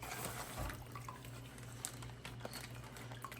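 Carburetor parts rinsed under running water after ultrasonic cleaning, a soft continuous splashing patter with a low steady hum beneath, no talk.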